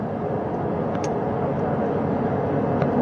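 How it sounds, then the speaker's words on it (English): Helicopter flying near an ocean recovery site, a steady, loud broadband engine and rotor roar holding evenly throughout with no talk. "That second helicopter now making its way back over to the front porch."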